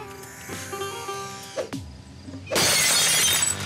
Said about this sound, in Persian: دست این میلرزه الان سنگو میزنه تو شیشه زندان ما.